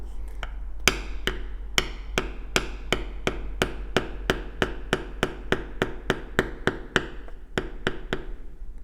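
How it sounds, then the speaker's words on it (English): A metal beveling tool struck with a mallet on a leather wristband, about twenty sharp, evenly spaced taps in a steady rhythm, close and clear over a low constant hum. "Every time I'm hitting, I'm letting that tool come up out of the leather and slide over slightly."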